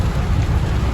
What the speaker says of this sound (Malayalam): ഇപ്പോഴും ഇതാ നല്ല മഴ പെയ്തോണ്ടിരിക്കാണ്